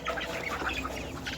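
A big hen squawks sharply from inside its coop, a few quick harsh cries close by with no talk.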